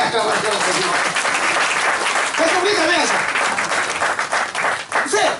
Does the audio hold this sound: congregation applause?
yes